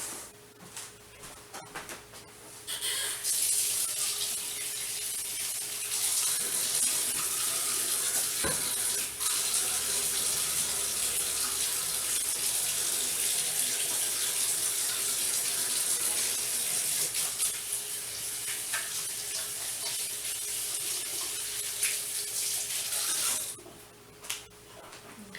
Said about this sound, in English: of course I need to wash my hands